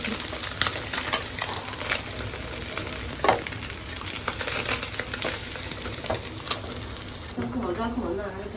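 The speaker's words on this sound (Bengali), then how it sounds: "এখন মাছটা উল্টায় দিচ্ছি মাছটা ভালো হয়ে গেছে" A fish fries in a hot pan with a steady, close sizzle and spattering oil, broken by clatter as it is flipped, while a voice speaks faintly underneath.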